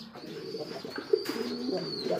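A pigeon coos in a short low throaty burst, close and fairly loud, with faint chirps and background murmur around it.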